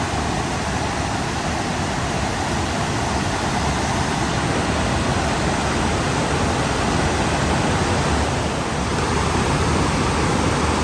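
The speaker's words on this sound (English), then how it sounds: "we look back up creek at the Bark Camp Creek Cascades" The Bark Camp Creek Cascades in the Daniel Boone National Forest pour in a loud, unbroken, close-up roar that holds steady throughout.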